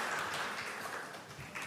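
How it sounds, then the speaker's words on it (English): Warm applause from a conference audience closing a debate at a cooperative's general assembly, a soft, even spread of many hands clapping, fairly distant and steady before easing slightly. "we can close this debate by a warm applause"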